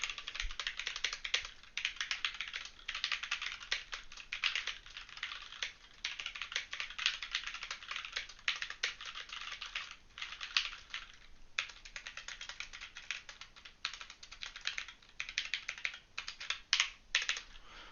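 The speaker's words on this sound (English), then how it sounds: "So I figured we'd do a bit of a typing test now." Steady typing on a SteelSeries Apex 7 mechanical keyboard with red switches: a quick, continuous stream of close, crisp key clicks with brief pauses and occasional heavier strokes, heard alone.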